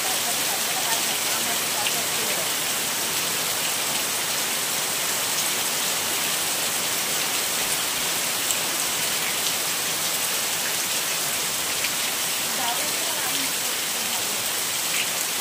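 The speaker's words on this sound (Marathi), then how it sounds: "पाऊस आला, पाऊस आला." Heavy rain falls steadily outdoors, a dense, even patter and hiss that holds without a break from start to finish.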